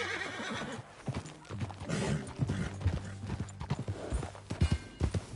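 Horse hooves clip-clop steadily in Red Dead Redemption 2, a rhythmic run of thudding steps with a horse whinnying and snorting over a busy game soundscape.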